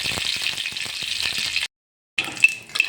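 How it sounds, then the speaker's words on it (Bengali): Mustard seeds and a dried red chilli sizzle in hot oil as a tempering, a steady loud close crackle that cuts out briefly, then resumes with a few sharp pops. "ফোড়নটা ভাজা ভাজা হয়ে গেছে"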